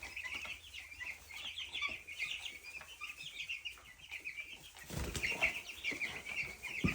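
Young Ameraucana and olive egger chickens, a couple of months old, cluck steadily in a brooder pen. Bursts of wing flapping and scuffling grow louder toward the end.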